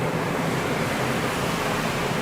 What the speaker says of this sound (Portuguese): Olha o vento, amor.